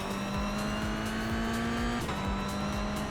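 Race cars in the iRacing sim roar along in a pack, engines droning loud and steady with a shift in pitch midway as one car changes gear, with no talking.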